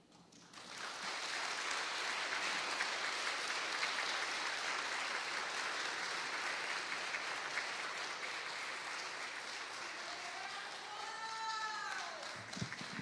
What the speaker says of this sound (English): another round of applause for Taylor Lyons for Moms for Social Justice